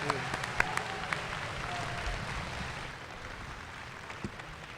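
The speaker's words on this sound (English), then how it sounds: "Please give a massive round of applause to Ron D. Moore" Crowd applause for panel guests Ron D. Moore and Esai Morales at a Caprica convention panel, MCM Expo 2010, a broad steady wash of clapping in a large hall with a few sharper claps and whoops, fading slightly toward the end.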